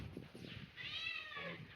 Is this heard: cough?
no